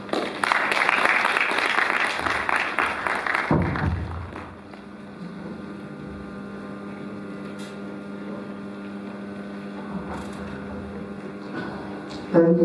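An audience applauds at a college congregation ceremony, a loud dense burst of clapping that ends abruptly around four seconds, followed by quieter room ambience with a low hum and a brief return of clapping at the close.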